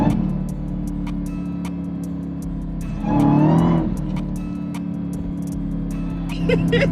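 A 2020 Dodge Charger Hellcat Widebody's engine roars and revs hard with tires spinning on a wet road in pouring rain, loud and close, the engine surging sharply in the middle.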